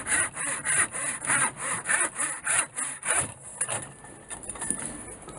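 A hand saw cuts a wooden piece to a 39 cm length in a home workshop, with steady rhythmic back-and-forth strokes, close and loud, that slow and soften toward the end.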